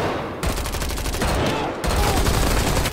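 Dense, loud gunfire in an action film, with rapid automatic bursts overlapping in a continuous fusillade that barely pauses, under a faint layer of voices.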